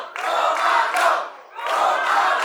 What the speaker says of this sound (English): But the crowd is fired up. They are chanting for Matty Romano.